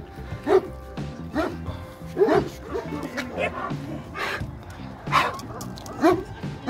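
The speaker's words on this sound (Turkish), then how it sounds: "Bu yemek saati olduğu için mi havlıyor bunlar?" Kangal dogs at a Kangal breeding farm barking and yipping in repeated bursts, some whimpering mixed in, with people talking nearby throughout.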